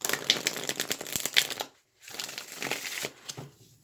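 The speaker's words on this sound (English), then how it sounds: "so let's shuffle and see" A deck of tarot cards is shuffled by hand in quick, papery riffles and slides that pause briefly and then resume, close and moderately loud, with no one talking.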